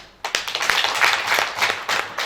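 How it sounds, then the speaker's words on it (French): An audience applauding at a COVID-19 challenge prize-giving ceremony honouring the NGO Helvetas: a short burst of dense clapping that starts abruptly, holds steady for about two seconds, then begins to thin. "je voulais demander d'applaudir Helvetas"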